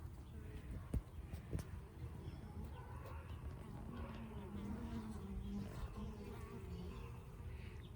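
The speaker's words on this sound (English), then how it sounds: "Look at all those bees." Honey bees buzz softly around an open hive in late October in South Alabama, a faint continuous drone with a couple of sharp knocks near the start.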